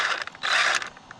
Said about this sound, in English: It almost sounds like front diff.